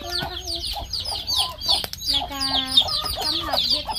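Chickens cluck repeatedly around a Thai frog farm, with a rooster-like fowl chorus of close, overlapping clucks and calls running steadily throughout, no talking.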